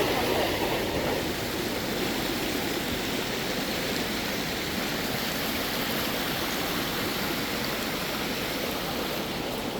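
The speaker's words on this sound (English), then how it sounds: "That's the geyser bubbling up its volcanic gases." Flaming Geyser, a man-made geyser bubbling up volcanic gases, heard as a steady close rushing and gurgling water noise, constant and fairly loud for the whole stretch with no talk.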